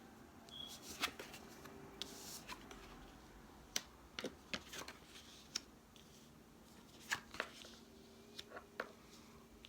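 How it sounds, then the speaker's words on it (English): Tarot cards are flipped and laid out for a Celtic Cross spread, making soft, close, scattered snaps and slides of card stock against a quiet room background. "let me flip over your cards for your Celtic Cross"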